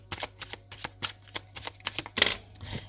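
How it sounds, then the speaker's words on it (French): A tarot card is laid down on top of another card, heard as a run of crisp, close taps and papery slaps in an uneven rhythm, ending with a brief rustle. "Alors, on va mettre une autre carte dessus."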